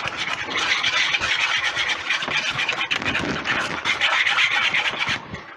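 A whisk scrapes and stirs continuously through thick cheddar ale soup in a pot, making a loud, steady, raspy rubbing sound with no pauses and no voices.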